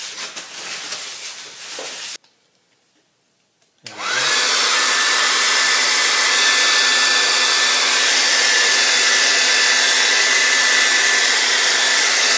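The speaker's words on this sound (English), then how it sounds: "I'm going to use my hair dryer, blow dryer, sort of like get this dry quickly" A click, then a hair dryer roars on loudly and blows at a steady, constant pitch until the end.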